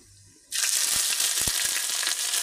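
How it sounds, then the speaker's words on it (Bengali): Ginger paste dropped into hot oil bursts into loud, steady spattering and sizzling after a brief quiet start, with a few sharp pops near the pan. "একটু আদাটা ছেটাচ্ছে"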